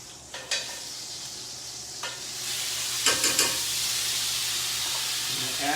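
Garlic sizzles and fries in a pan reused after crisping other food, a steady hiss with a few sharp clinks of a utensil stirring against the pan.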